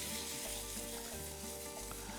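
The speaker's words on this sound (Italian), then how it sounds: "Qui sta sfrigolando e andiamo a mettere i fagioli." Soaked, precooked beans go into a pan that is already sizzling, giving a steady loud frying hiss with soft stirring scrapes throughout and no talking.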